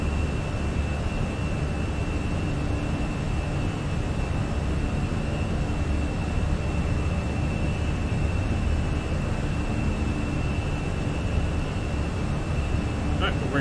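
Steady, broadband roar of Fenix A320 jet engines at climb power in Microsoft Flight Simulator, a constant loud rumble with a faint high whine, unchanging throughout.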